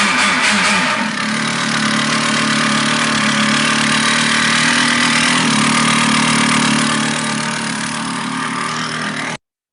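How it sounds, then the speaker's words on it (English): A small engine built for a fuel-economy competition runs on green fuel with a raspy, race-like drone, loud and steady at close range, then cuts off abruptly at the end. "it sounds like a race engine"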